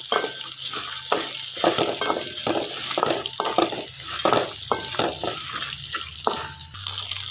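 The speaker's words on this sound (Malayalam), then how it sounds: "മല്ലിയും മുളകും ഒന്ന് മൂത്ത് വന്നാൽ മതി ഉള്ളി അതിൻ്റെ കൂടെ ഒന്ന് പറഞ്ഞ് ചൂടായിക്കോളും" Coriander, chili and onion roasting in a hot pan, with a steady, bright sizzle throughout and repeated scraping and stirring strokes from a spoon against the pan.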